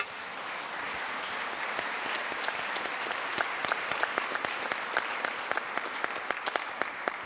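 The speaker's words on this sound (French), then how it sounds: "On peut l'applaudir." Audience at an evening museum lecture on an Egyptian sarcophagus applauding a speaker being introduced, a steady, moderately distant wash of clapping with sharper individual claps standing out, continuous for several seconds with no talk.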